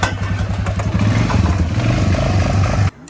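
A Polaris Scrambler ATV engine runs loud and close, a rough, throbbing idle with uneven revs that carries for nearly three seconds before cutting off abruptly.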